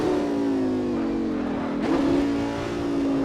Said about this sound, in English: Downshifts are very aggressive is what I'm noticing